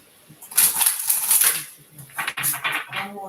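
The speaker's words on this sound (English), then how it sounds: "One more shuffle." A deck of tarot cards is shuffled close by, giving a dense, crackling rustle that swells in two uneven bursts with sharp card snaps and no talking.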